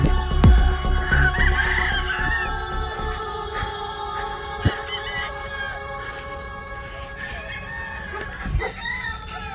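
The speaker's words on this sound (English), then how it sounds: "A lot of chickens." Several chickens cluck and crow around a nearby yard, with repeated calls and occasional sharp knocks and rustling in the background.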